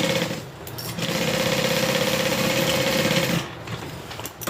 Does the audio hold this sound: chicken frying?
no